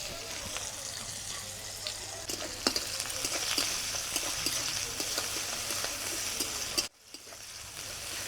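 Chopped onion fries in hot oil already tempered with a bay leaf, a dried red chili and black cumin. A steady, fairly quiet sizzle runs throughout, with light scraping and clicking from stirring, and one brief dip in level.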